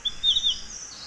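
A few short, high chirps from a small grey-cheeked flycatcher-like forest bird of the warbler family, a camouflage nest-builder, clustered in the first half second and fairly faint.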